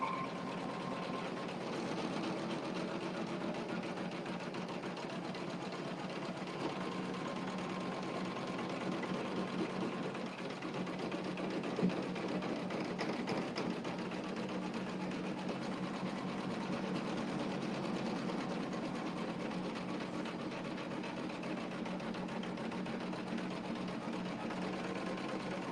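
A sewing machine stitches wool appliqué with green thread, giving a continuous, even mechanical whir and hum that holds steady throughout, moderately quiet and without talking.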